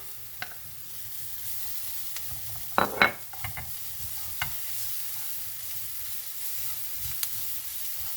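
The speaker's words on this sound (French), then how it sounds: "je vais rajouter mon gingembre" Ginger hits a frying pan with a soft, low sizzle and a few scraping stirs, including one brief louder burst of stirring partway through, against a steady quiet background hiss.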